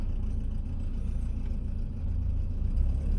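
A BMW M10B18 four-cylinder engine idles steadily at low revs once its auxiliary air valve has closed, a close, even, low rumble with no other sounds.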